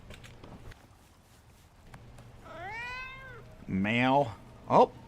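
A cat in the survival game Icarus gives three meows, the last two louder and closer and the final one short and sharp, over faint steps and quiet game ambience.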